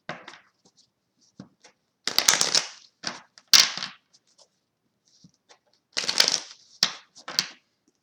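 Tarot cards are shuffled close up in short, crisp riffling bursts with soft taps and pauses between them, fairly quiet and with no talk.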